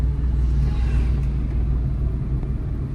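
A car in third gear picks up speed on a highway, its engine a steady low rumble with road noise droning throughout.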